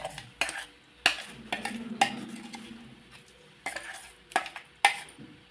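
Tomato chutney (thokku) stirred into a garlic-paste tempering in a pot, with a spoon clinking sharply against the metal every second or so over a soft scraping, close and fairly quiet.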